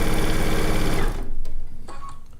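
A sewing machine stitches a zig zag quilt at high speed, running loud and continuous for about a second before stopping, followed by faint clicks and handling noise.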